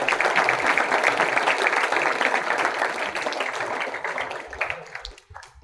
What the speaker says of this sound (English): Kindly give him a huge round of applause.